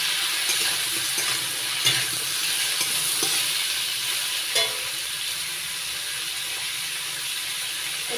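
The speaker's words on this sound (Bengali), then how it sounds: "এবার দিয়ে দিচ্ছি সামান্য একটু লবণ, নাড়াচাড়া করে হালকা করে ভেজে নেব।" Salt is stirred into a pan where food is lightly frying for a snake gourd and hilsa curry, giving a steady sizzling hiss with occasional scraping stirs throughout and no speech.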